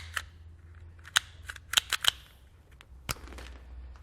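Trailer wiring being stripped at the ends while fitting a Roadmaster Universal Hy-Power diode wiring kit: a few sharp, close snips and clicks spaced irregularly over low background hum.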